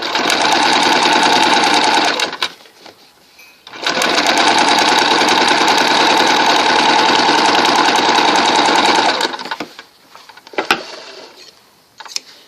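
A sewing machine stitches along a basting line on a bone casing, running in two steady, fast-chattering bursts separated by a short pause, close up, followed by faint handling clicks.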